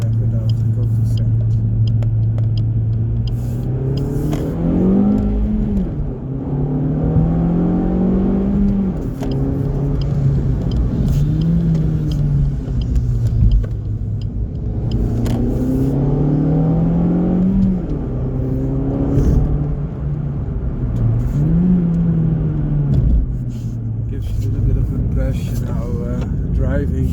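A small hatchback's engine pulling hard through the gears, its pitch climbing and dropping in repeated sweeps as each gear is wound out and shifted, loud and close inside the cabin, with a person talking over the engine note.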